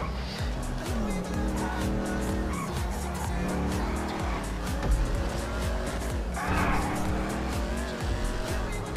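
A muscle car in a Grand Theft Auto V race loses its rear end and skids, tires squealing over a loud, steady engine roar, with someone talking over the action.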